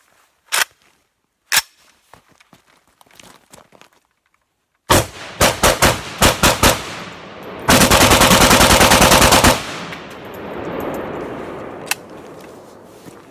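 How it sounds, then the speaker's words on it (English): Gunfire from an AK pistol fitted with a CNC Warrior 4-piece flash hider: a few spaced single shots, then a quick string of loud reports and a sustained rapid burst, ringing out close and sharp with echo fading after. "Now let's try the AK pistol with the CNC Warrior 4-piece flash hider."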